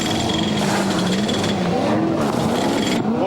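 A V8 Supercar from the 2001 championship race in Canberra peels into pit lane for an early stop: a loud, continuous engine roar close by, pitch wavering as the car slows, with faint tyre noise and no talk.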